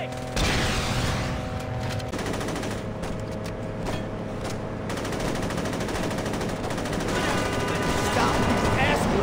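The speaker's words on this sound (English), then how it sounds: "Stop these assholes from shooting up my rim!" Rapid automatic gunfire rattles through a Saints Row game cutscene in sustained bursts, with a steady mechanical hum underneath and voices mixed in.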